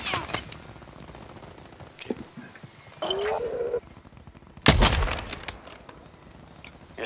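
Gunfire in a video game comes in several loud bursts, including a long crackling volley and a rapid stream of shots, with voices talking in between.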